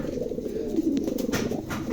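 Two Bukhara pigeons coo nearby in a soft, rolling, continuous murmur of low calls, with light rustling and faint clicks.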